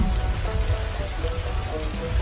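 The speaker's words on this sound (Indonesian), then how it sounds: "Pekanbaru sedang hujan terus-menerus nih. Kalau hujan begitu deras, bisa menyebabkan banjir." Heavy, continuous tropical rain in Pekanbaru pours down in a dense, steady roar, with faint tonal hints in the background and no speech.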